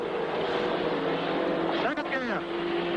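A 1970s touring car at the Bathurst race, 1977, revving as it shifts into third gear, a droning engine tone that rises then breaks with a gear change, heard alongside a voice talking.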